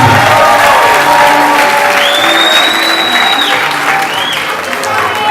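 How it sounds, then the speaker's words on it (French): A crowd applauds steadily at a tribute gathering held by a Congolese political party, the clapping loud and continuous throughout, with voices and faint talk mixed into it. "applaudissez pour Maman Chalamouani"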